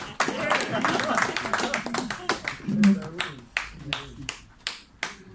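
Scattered hand claps, a few sharp separate claps that grow sparser toward the end, mixed with a person speaking.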